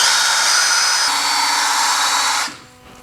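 A power drill whirs steadily at close range during brake work on a BMW E92 335i, its pitch shifting once midway, then winds down and stops near the end.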